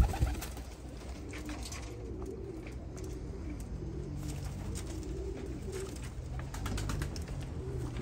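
Pigeons of çakal and baska breeds cooing, soft repeated low coos at a moderate distance over a faint background rumble, with occasional light clicks.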